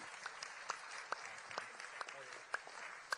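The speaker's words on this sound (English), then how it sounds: "Give him a round of applause." A banquet crowd at a formal dinner applauds at a distance with a dense, steady patter of clapping. A few louder claps stand out nearby.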